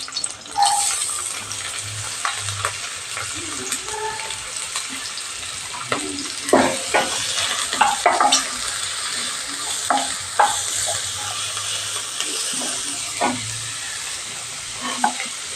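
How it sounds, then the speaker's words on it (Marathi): Onion and garlic cloves sautéing in a pan for a sea fenugreek dish: a continuous close sizzle broken by spatula scrapes and knocks against the pan, with no one talking. "आता मी त्यावर कांदा घालणार आहे"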